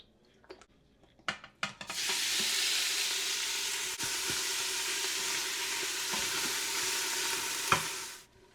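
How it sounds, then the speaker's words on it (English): Beef browns in a little oil in an Instant Pot, a dense, loud, continuous sizzle that starts after a few clicks and knocks and runs steadily. The sizzle is occasionally broken by a utensil tap, with no voices. "Time to brown our meat."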